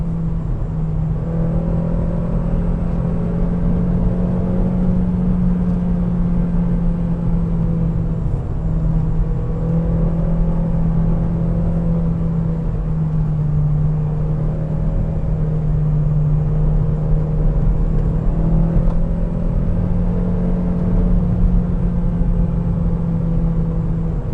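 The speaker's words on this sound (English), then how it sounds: "I'll be quiet here and you can listen to this engine." A 2008 Saturn Astra 5-door XR engine hums steadily at a low pitch throughout, a continuous near drone with slight shifts in tone as the car drives, no voices.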